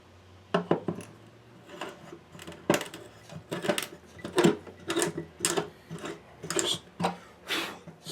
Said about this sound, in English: we'll just clean up those bridge pin holes